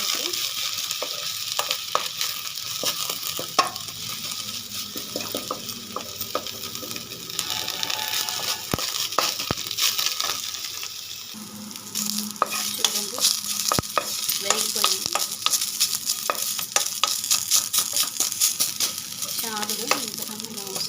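Dry dosa-batter ingredients, drumstick leaves and sorghum semolina among them, are fried and stirred in a pan. A continuous soft sizzle runs throughout, with frequent scraping clicks from the stirring and no talk.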